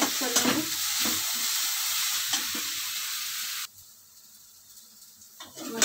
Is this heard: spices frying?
yes